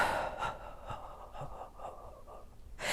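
Heavy breathing during a home Pilates mat exercise, breathy inhales and exhales close to the mic, with a sharp gasping breath near the start and another at the end, no talking.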